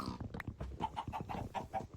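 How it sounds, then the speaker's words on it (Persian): A rooster crows repeatedly on a farm, its calls mixed with grunting livestock nearby, loud and busy over the two seconds with no talk. "چقدر خروس باحاله"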